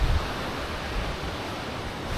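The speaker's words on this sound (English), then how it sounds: "there is some spray coming off of the waterfall." Steady broadband roar of a Welsh waterfall throwing off spray, close and continuous, with no talk over it.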